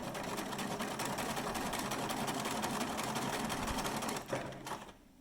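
A sewing machine stitches a seam in a rapid, steady mechanical patter, close but quiet, running for about four seconds before slowing and stopping with a few clicks.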